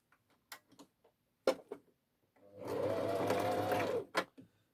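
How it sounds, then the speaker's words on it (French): A sewing machine stitching a fabric rectangle with right sides together runs in one steady burst of rapid stitching, framed by faint clicks and handling knocks before and after. "Vous allez le coudre aussi, endroit contre endroit."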